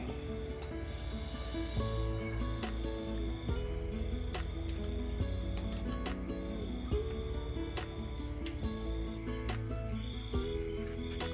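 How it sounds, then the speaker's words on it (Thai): Crickets chirp at night in a dense, layered chorus, with a steady high trill over low background hum. "จะมีเสียงจิ้งหรีดร้อง"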